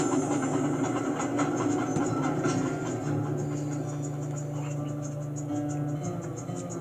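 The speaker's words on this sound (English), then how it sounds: "Wait for the train." Train rolling past in the Sly 2 video game, a steady loud rumble with rhythmic clatter and a high metallic squeal, continuous through the whole stretch.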